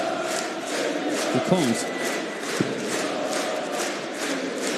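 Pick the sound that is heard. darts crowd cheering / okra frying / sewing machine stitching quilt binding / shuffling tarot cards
darts crowd cheering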